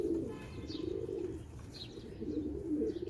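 A pet golden pigeon in a breeding loft coos softly in repeated low, rolling phrases, with faint chirps from other birds further off.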